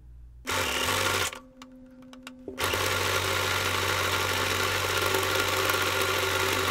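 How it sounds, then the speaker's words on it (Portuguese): A domestic sewing machine runs steadily while stitching a decorative seam around a fabric-scrap bag. A short pause lets it stop, then the stitching picks back up and continues as a loud, even mechanical whir. "eu vou fazer mais uma costura decorativa em volta"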